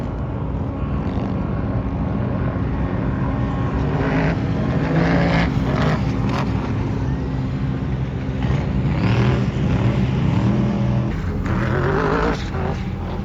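A Polaris Pro R side-by-side races a sand car up the Glamis sand dunes, engines droning loud and steady throughout with revving surges, mixed with wind and distant machines.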